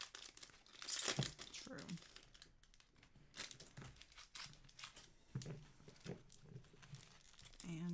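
Packs of 2021 Topps Series 1 baseball cards from hobby boxes are torn open, giving bursts of crinkling and tearing wrapper foil close by, mixed with a person talking.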